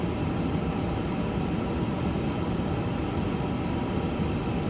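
Steady broadband rumble from an extended speed brake in an airliner flight simulator, a continuous airflow roar with no breaks or talk.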